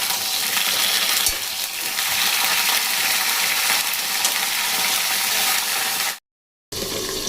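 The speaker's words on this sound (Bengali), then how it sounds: "এগুলো বেশ ভালো করে তেলে ভেজে নিতে হবে।" Aubergine pieces frying in oil for a spiced eggplant curry, a steady dense sizzle and crackle running close and loud for about six seconds, then a brief cut to silence before the sizzling resumes.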